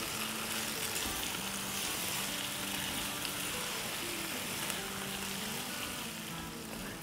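Chicken fries with salt and whole fennel seeds, producing a dense, even sizzle that holds steady and fairly loud for the whole stretch with no pauses and no voices.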